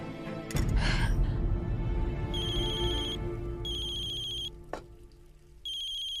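A phone ringtone plays for a call to mother from a home kitchen, sounding as repeated bright electronic bursts at a steady rhythm after a brief rustle, fairly close and clear with no talk.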